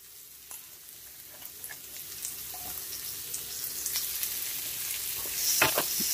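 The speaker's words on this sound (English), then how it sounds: "Give it a stir." Celery with garlic, onion and black pepper sizzles in a cooking pot for turkey noodle soup. The frying hiss builds steadily and is dotted with light crackles and a few scraping stirs, with no talk.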